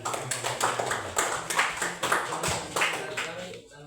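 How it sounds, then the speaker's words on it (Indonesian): An audience bursts into applause, a burst of rhythmic clapping that is fairly close and moderately loud, fading out at the end. "Mari kita berikan tepuk tangan."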